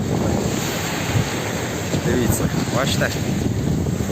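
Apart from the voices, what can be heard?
stormy Mediterranean Sea waves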